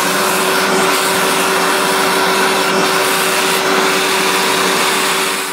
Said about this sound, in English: and then I'm gonna vacuum that basically